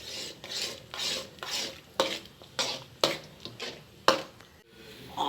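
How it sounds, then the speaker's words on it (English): White rava (suji) upma being stirred in a pan: about a dozen rhythmic scraping strokes of a spoon through the thick semolina, close and distinct, with a soft sizzle between the strokes and no voices. "I'll stir it, and within few minutes the rava upma will be ready."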